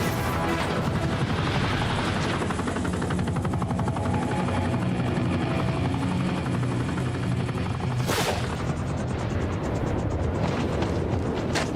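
A helicopter in the video game Modern Warfare roars loudly and steadily, its rotor chopping without pause, with a brief sharp burst of noise near the end.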